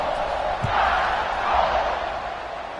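A large stadium crowd at a football game roars steadily after a scoring drive, the broad cheering swelling and easing as a continuous wash of noise.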